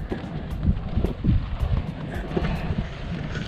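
A Yellowstone geyser's steady, throaty rumble with rhythmic surges of rushing, hissing water, like breathing; loud and continuous with wind noise.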